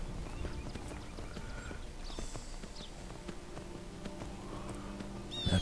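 Horse hooves clip-clop steadily in Skyrim Special Edition as a horse travels toward Helgen, a continuous rhythmic walking gait at moderate distance under faint ambient game sound.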